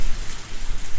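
Intense rain in Higurashi When They Cry: Tatarigoroshi falls as a dense, steady hiss of downpour, broad and constant throughout with no voices.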